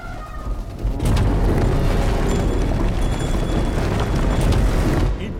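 Cannon fire in an 18th-century Indian battle at Panipat, staged in a 2019 Indian film, a sudden heavy boom that swells into a long, loud rumbling roar lasting several seconds, with no speech.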